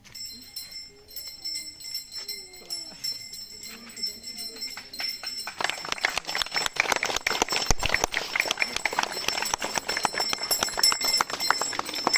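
A handheld school bell rings at a first-day-of-school ceremony, its bright metallic peals building into steady, continuous ringing over the second half, with voices and crowd sounds underneath.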